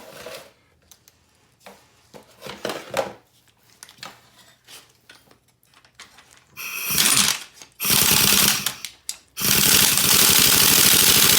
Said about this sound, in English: Now we have to tighten down this spring compressors more.